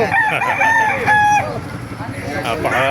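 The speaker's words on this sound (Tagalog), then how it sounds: "Papakita ko sa inyo mga manok dito sa Baliwag" Gamecock roosters crow repeatedly at a market in Baliuag, Philippines, several overlapping cock-a-doodle-doos close by, over a noisy background with clucking and chatter.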